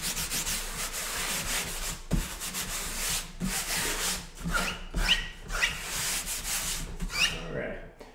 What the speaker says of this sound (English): I'm using a pickup eraser as I do this. Rub my hand over it to make sure I've got everything up.